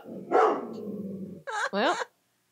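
A voice imitates a dog barking with a short growly woof and two quick yelping barks, heard alone and close up.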